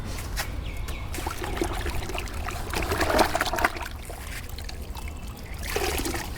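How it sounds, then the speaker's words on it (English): Water trickles and splashes over a motorbike during cleaning, an uneven pouring and dribbling sound at close range, over a low background hum. "Okay, I'm gonna throw some water."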